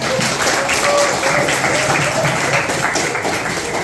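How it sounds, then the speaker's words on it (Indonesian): Classroom applause from a group of students, a steady, dense patter of clapping at close range sustained throughout, with no talk over it. "Tepuk tangan untuk Farel."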